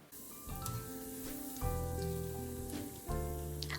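Daal pakora (piyaju) fritters fry in hot oil, crackling in a steady soft sizzle while faint clinks and tonal kitchen noises break in now and then. No one speaks.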